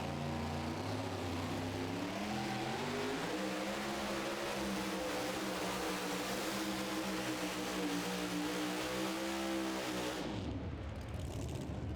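A 2WD pulling truck named Hot and Nasty revs hard at a tractor pull, its engine note climbing and rising in pitch for several seconds, loud and close, then cutting off sharply.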